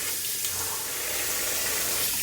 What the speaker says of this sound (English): I'm rinsing them under cold water, and I have a bowl of cold water here to let them sit in